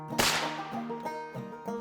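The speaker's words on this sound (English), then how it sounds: "I'm gonna shoot." A single sharp gunshot cracks out at night during a raccoon hunt, fairly faint and distant, followed by a brief ringing tail with no talk.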